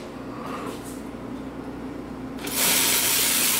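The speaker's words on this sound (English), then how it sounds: "let's test the steam." The steam wand of an Alex Duetto espresso machine, under test after earlier watery steam, bursts on with a loud, steady, close hiss partway through, following a low machine hum.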